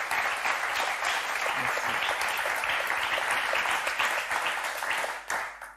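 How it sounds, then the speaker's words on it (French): A studio audience on the Motus game show claps loudly and steadily for the contestants, a dense continuous burst that fades out near the end. "on va déjà commencer par vous applaudir très fort"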